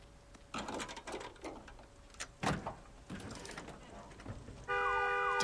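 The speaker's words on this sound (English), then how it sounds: "Damn alarm." Car alarm in the video game Days Gone, a synthetic electronic tone that starts late and blares loud and steady, following a stretch of muffled in-game thumps and footsteps; someone talks earlier.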